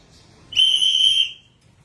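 A single loud, piercing whistle blast lasting under a second, blown close by to announce a garbage truck's arrival in a residential street.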